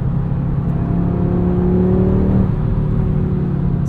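A 2022 Audi RS 3's turbocharged five-cylinder engine revs steadily with a deep, throaty drone, pitch climbing and then easing off, close and loud with no talking.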